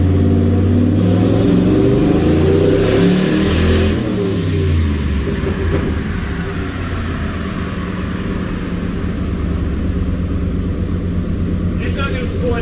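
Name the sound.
turbo EFI 460 engine revving on dyno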